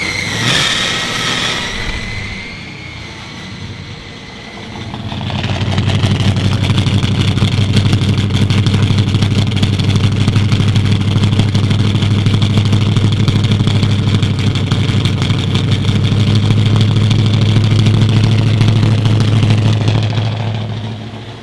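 Quiet idle sound, then a car engine with a straight-pipe exhaust cranks and fires into a loud, raw, rumbling idle that holds steady and close for a long stretch.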